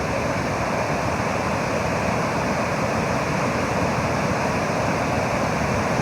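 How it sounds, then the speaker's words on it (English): The E'e Falls waterfall roars as powerful rushing water, a dense, steady, loud wash of noise with no pauses and no voices. "There's a lot of power in that water"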